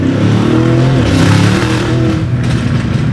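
A Lamborghini Urus SUV revving in Corsa mode gives a loud, continuous, close engine and exhaust roar that swells and holds without a break, with no speech over it.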